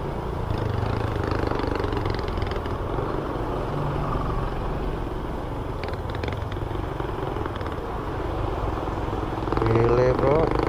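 A motorcycle engine drones steadily while riding through a long traffic jam on the newly paved Jonggol–Cariu road, with other vehicles idling and rumbling close by and someone talking over it.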